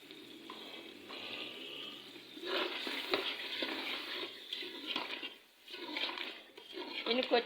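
Chicken frying in a pan with yogurt, ginger and garlic masala, a wet bubbling sizzle with stirring scrapes that swells and dips, close by, with no talk over it.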